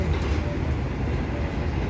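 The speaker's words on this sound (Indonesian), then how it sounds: "Kita melintas langsung di stasiun Maguwo. Ini kenceng banget loh, ini ngebut." KA Argo Lawu luxury train speeding through Maguwo station on the Solo-Jakarta line, a steady loud rumble and roar as heard from inside the carriage.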